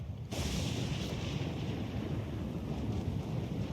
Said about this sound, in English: That storm's pretty loud.